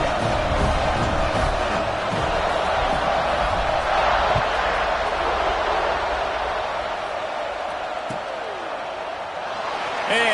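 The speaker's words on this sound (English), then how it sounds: "this crowd is buzzing after that last score" A college football stadium crowd in a video game, Clemson against Georgia, keeps up a steady loud buzzing roar that fills the whole stretch without pause, with a few faint thuds in the mix.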